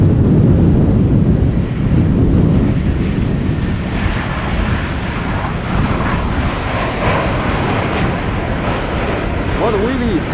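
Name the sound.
Vueling Airbus A320 arriving in wind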